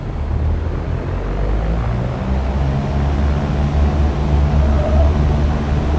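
Airliner or light aircraft engine in X-Plane 11 flight simulator taking off from a runway, a steady loud low rumbling drone with broadband roar that builds slightly over the run.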